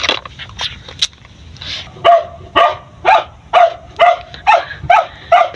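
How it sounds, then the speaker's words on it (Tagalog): A family dog barks in a run of about eight sharp, evenly spaced yelps mixed with whining, close and loud indoors in a small room, with a softer whimper before the barking starts. "Umiiyak na naman, guys, aso namin."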